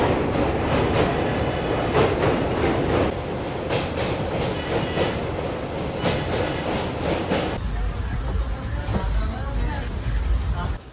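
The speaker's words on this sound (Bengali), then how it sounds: "ট্রেন কিন্তু এখনো স্পিড ধরলো না, এই টুকটুক টুকটুক করেই যাচ্ছে।" A Kolkata to Digha passenger train rolls slowly, with steady loud rumble and rhythmic clickety-clack of the wheels over rail joints, the sound shifting partway through, with a murmur of voices in the carriage.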